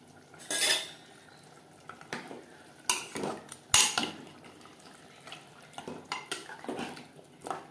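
Mutton and gravy are mixed in a pot, with scattered clinks and scrapes of a utensil against metal and soft liquid sloshing, in short irregular bursts.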